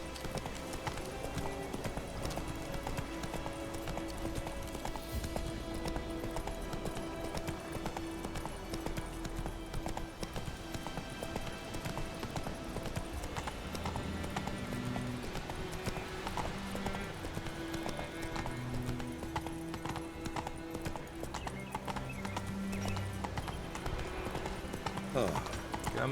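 Steady clip-clop of horse hooves in The Witcher 3 at a quick, even rhythm runs throughout, with a faint whinny and continuous background game music.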